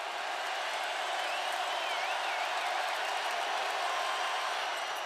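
College basketball student section at a Clemson versus Virginia Tech ACC men's game roars during a free throw, a constant dense wash of crowd noise with a faint whistle-like tone inside it.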